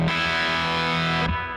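Electric guitar driven through a cranked 5E3 Tweed Deluxe amp, a thick, saturated sustained chord ringing out loudly before cutting off abruptly into a brief low decay.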